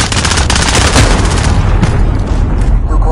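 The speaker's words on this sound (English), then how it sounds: "Allied cruise missile on the way." A loud, dense barrage of game explosions and gunfire from an allied cruise missile strike in a console shooter, booming continuously throughout with rolling blasts and crackling fire.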